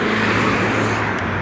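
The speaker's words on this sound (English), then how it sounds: "Let me wait for this car to go by." A car passes close by on a Los Angeles freeway, a steady, loud broadband roar of engine and tires that holds for the whole short moment with no voices over it.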